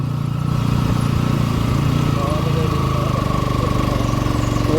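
A motorcycle engine idles close by with a steady low throb, and people talk over it at the end of a short ride on a rough rural forest track.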